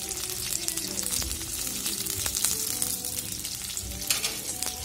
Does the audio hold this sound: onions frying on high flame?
yes